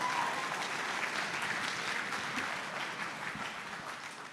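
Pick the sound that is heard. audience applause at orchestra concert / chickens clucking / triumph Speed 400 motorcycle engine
audience applause at orchestra concert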